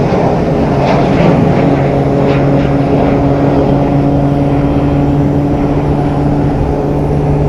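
A Southwest airliner taking off at Phoenix Sky Harbor airport gives a loud, steady engine roar with constant droning tones, unbroken for several seconds with no voices.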